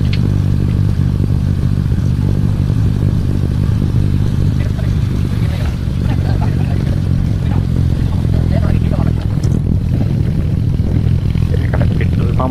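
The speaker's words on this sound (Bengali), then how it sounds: "বাইক ধীরে ধীরে চলবে, তার সাথে ডুকডুক ডুকডুক শব্দ থাকবে" A Bullet motorcycle rides slowly along a road, its engine giving a loud, continuous low thudding rumble mixed with wind and road noise that runs steadily throughout.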